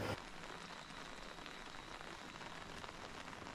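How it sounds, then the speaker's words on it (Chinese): Light rain falls steadily on the roof eaves of an old village, a soft, even patter with scattered drips, alone and at moderate distance. "雨滴落在屋檐上，滴答滴答的声音像一首舒缓的乐章"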